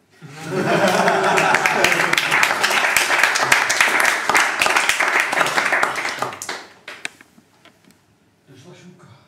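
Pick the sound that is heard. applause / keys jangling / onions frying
applause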